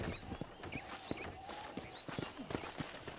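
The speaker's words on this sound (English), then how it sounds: "let's see if you can still ride a horse." Rhythmic clip-clop of horse hooves at a walking pace in Red Dead Redemption, fairly close, with faint background ambience and no talking.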